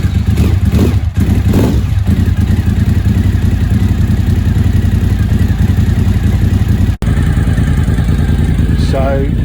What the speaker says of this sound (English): my bike's nearly coming up to the temperature. It's idling at about the 1300 mark